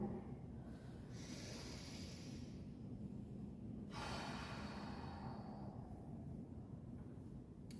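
Slow, deep belly breaths during a meditation breathing exercise, a long airy inhale and a drawn-out exhale close to the microphone, soft and steady with no speech.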